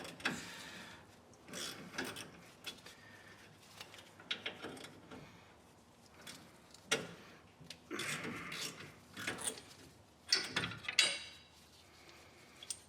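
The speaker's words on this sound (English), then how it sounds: "The next thing we need to do is remove these two bolts. They're 10mm and they hold the caliper on" Two 10mm caliper bolts come off the rear brakes of a Ford F-150, faint ratchet clicking and metallic fiddling in irregular bursts with brief pauses, close but quiet.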